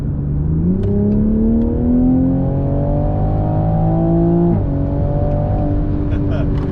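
A new Toyota Supra accelerates hard on a test drive, its engine revving steadily upward through one gear before a brief shift, loud and close inside the cabin.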